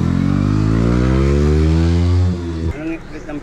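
An XBia 250 motorcycle engine idles steadily and loud up close, a low throbbing drone that cuts out near the end, leaving quieter background noise.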